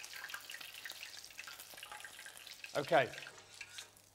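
Oysters dropped into hot oil for a canapé fry with a soft bubbling sizzle, rising into a brief louder splash and crackle near the end, while a person speaks briefly.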